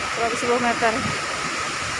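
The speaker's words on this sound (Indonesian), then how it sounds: "Air terjunnya itu sampai jauh ke sini." The steady, close roar of Curug Citambur, a 110-meter waterfall in South Cianjur, fills the background while a person speaks briefly over it.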